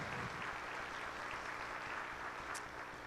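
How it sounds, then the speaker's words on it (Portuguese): A church congregation applauds, a dense, steady wash of many hands clapping at moderate distance that holds evenly throughout without pause. "Se você quer aplaudir, aplauda o Senhor"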